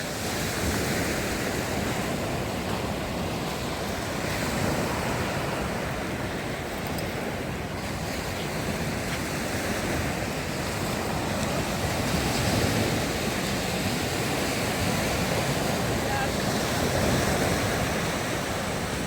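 Steady roar of Black Sea waves washing onto the shore at Odesa, broad and continuous with gentle swells, some wind noise mixed in, no voices.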